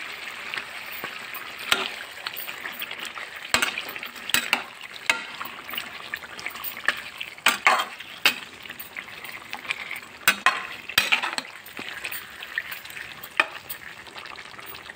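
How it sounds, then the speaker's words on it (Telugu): Chicken with turmeric and salt stirred in a pan for chicken kurma, sizzling under repeated sharp spatula scrapes and clinks in an irregular rhythm, close-up and without voices. "పసుపు వేసాను, 1/2 స్పూన్ పసుపు, 1 టీ స్పూన్ ఉప్పు ఇవి వేసుకొని బాగా కలుపుకోవాలి."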